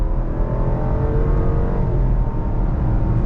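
A 2021 Jeep Grand Cherokee L with a V8 and 8-speed automatic accelerating under throttle, a steady, full engine drone with road rumble from inside the cabin, loud and continuous.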